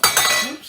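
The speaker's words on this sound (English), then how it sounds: "our next step is to add some ice" Ice cubes dropped into a glass while mixing a lemon basil martini, one quick bright clink and rattle up close that rings briefly and fades.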